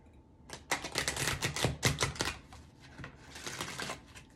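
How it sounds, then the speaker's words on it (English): Playing cards being shuffled by hand in a series of quick riffling bursts, close and fairly loud, pausing briefly midway before another run of crisp flutters. "See, I like shuffling cards."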